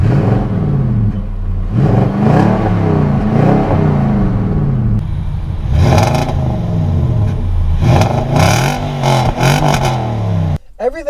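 A Nissan Titan Pro4X truck engine idling and revving, loud and close with rising and falling surges over a steady rumble, and a voice talking over it in places.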